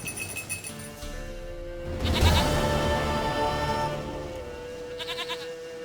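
A goat in The Witcher 3 gives a drawn-out wavering bleat that starts partway in and carries for several seconds. Light metallic clinks and game ambience sit around it, and there is no speech.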